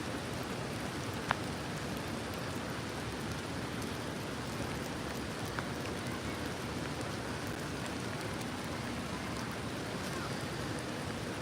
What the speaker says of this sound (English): I'm standing in this park in the rain